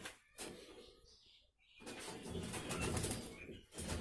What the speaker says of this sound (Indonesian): Ini tadi burung yang sedang sakit.